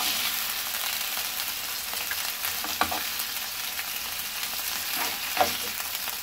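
Pork pieces searing in a pressure cooker sizzle steadily for the whole stretch, with a couple of brief scrape or clatter accents from stirring near the middle and end.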